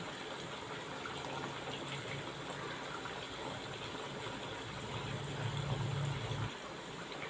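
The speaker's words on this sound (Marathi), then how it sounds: "फास्ट गॅसवर मी वडे तळत आहे साबुदाण्याचे" Sabudana vada deep frying in hot oil over a high flame, a continuous bubbling hiss that swells slightly toward the end, moderate and steady with no voices.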